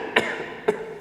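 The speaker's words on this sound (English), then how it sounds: "I'm gonna cough one more time." A man coughs twice into a microphone in a radio studio, two short, close, dry bursts about half a second apart against a quiet background hum.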